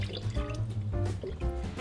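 Cold tap water runs into a pot holding boiled eggs, a close, steady trickling and filling sound with bubbly dripping.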